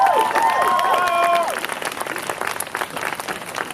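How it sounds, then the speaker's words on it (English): Applause at a climate-justice community event, a dense steady patter of clapping with cheering voices and whistles over the first half, easing slightly but continuing throughout. "clap it up, clap it up"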